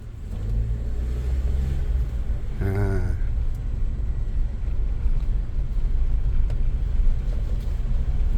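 A Toyota Rush engine with a double blackcore fitted runs at a steady, loud idle with a low rumble, rising briefly in a short rev near the start before settling back.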